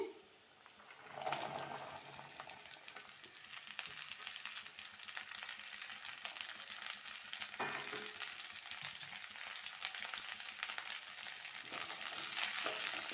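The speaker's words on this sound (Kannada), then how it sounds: "ಎಲ್ಲ ಫ್ರೈ ಮಾಡೋಣ, ಮಿಕ್ಸ್ ಮಾಡೋಣ" Long beans (alasande) frying with onions in a pan, a steady close sizzle that starts after a brief quiet moment and runs on with occasional stirring scrapes.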